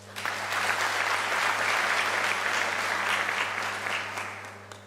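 Audience at a University of South Africa spring graduation ceremony breaks into steady applause, a full, even wash of many hands clapping that holds for a few seconds and then tapers off.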